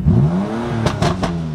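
A tuned BMW M2 Competition idles loudly up close, then takes a short blip of throttle, its engine rising and falling in a quick rev with a few sharp popping bursts before settling back to a rumble.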